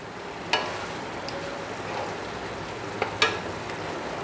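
Potatoes frying in spice masala: a low, soft sizzle in the background, broken by two or three sharp clinks and scrapes of a spoon against the pan.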